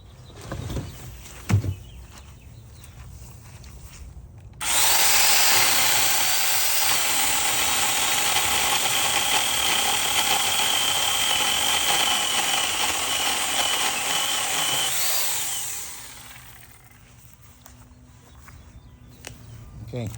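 A 40-year-old Craftsman corded electric chainsaw fitted with a new replacement chain starts up and runs at a loud, steady whine for about ten seconds, then winds down, close by.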